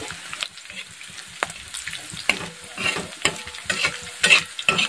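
Long green chillies fry in oil in a pan for methi bhaji, a close bubbling sizzle with repeated scraping stirs and spoon knocks that grow louder and busier toward the end.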